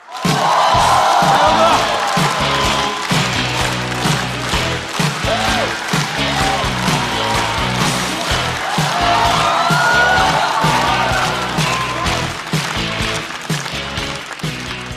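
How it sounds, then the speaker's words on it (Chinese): A large stand-up comedy audience applauds and cheers loudly and continuously, clapping and whooping throughout. "掌声欢迎开花俱乐部的主理人小块儿。"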